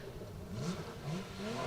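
BMW E30 rally car in a 4WD forest stage event, its smooth engine droning at a moderate distance behind a hillside, steady and unbroken with no talk.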